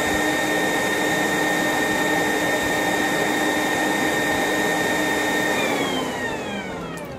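An Atten ST-862D hot air gun runs with a steady, loud blowing roar and a high whine. Near the end the whine slides down in pitch and the roar fades slightly as the airflow changes. No one talks.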